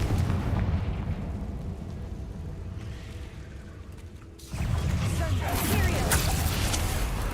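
Confringo spell explosions in the video game Hogwarts Legacy, a dense rumbling blast that fades, then a sudden loud burst erupting into sustained crackling booms, with voices underneath.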